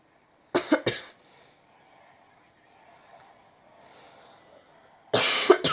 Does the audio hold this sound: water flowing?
no